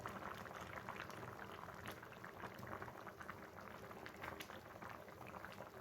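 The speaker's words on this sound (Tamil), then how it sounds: "குழம்பு வந்து நல்லா கொதித்து வெந்துக்கிட்டு இருக்கு" A pot of thick eggplant and mango tamarind curry bubbles and simmers steadily, with soft popping and gurgling throughout, quiet and close, no voices.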